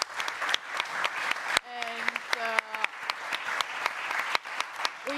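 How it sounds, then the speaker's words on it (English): An audience at a talk on humans and AI breaks into applause, a dense, steady clatter of many hands clapping that runs through the whole stretch, with a brief voice and a couple of tonal notes heard over it. "Give a round of applause."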